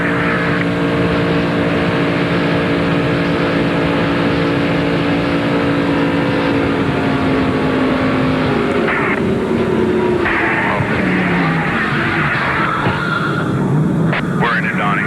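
A loud, droning NASCAR race car engine at the 1996 Winston Select 500, heard from an in-car camera, roars steadily, its pitch sliding and shifting as it revs, with rattling bursts toward the end.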